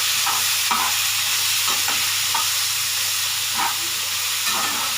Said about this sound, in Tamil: சேர்த்துட்டு இப்போ நம்ம நல்லா வதக்கிடலாம்.